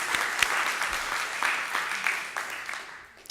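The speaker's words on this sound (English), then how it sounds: "I guess we can all give ourselves a round of applause" Applause from a conference audience, a steady dense patter of many hands clapping at moderate distance that fades slightly toward the end, with a few faint voices underneath.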